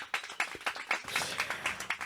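A studio audience at a French television talk show applauds a departing guest, a short burst of steady, dense clapping heard fairly close, with no talk over it.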